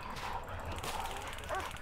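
A dog in the prison management game Prison Architect gives short yips and whimpering barks, faint and brief, over low background game noise.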